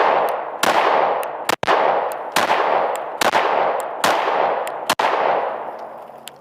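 Sharp, loud pistol shots from a Smith & Wesson M&P 5.7x28 handgun, about eight reports fired in a fairly steady rhythm over several seconds, each with a ringing outdoor decay.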